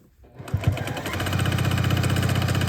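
A sewing machine stitches the last stretch of a quilt block seam, starting after a brief pause with a few thumps and then running in a steady, fast, close whirring rhythm.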